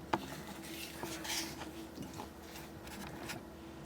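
A spoon scrapes and clinks against a bowl while vanilla extract is stirred into cake batter, a few soft scrapes and light taps, faint and close, with a steady hum underneath.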